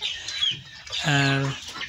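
Domestic chickens give a few close, short clucks and a rising call while pecking at homemade feed, with quiet gaps between the sounds.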